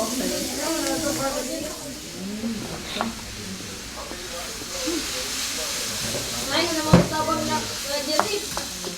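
Raw meat going into a hot pan in a kitchen in Japan, giving a steady sizzling hiss with stirring scrapes and a few sharp utensil clinks near the end.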